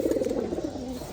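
A pigeon coos softly and steadily in a loft, a low continuous burbling call lasting about a second, close by with no talk over it.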